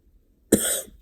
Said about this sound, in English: I burped and coughed at the same time.